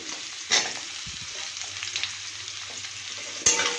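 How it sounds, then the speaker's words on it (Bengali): Potato and sweet potato pieces frying in oil in a pan, a steady close sizzle with a few sharp spatters and scraping stirs, no speech. "এবার সুন্দর করে সবজিগুলোকে লাল লাল করে ভেজে নেব।"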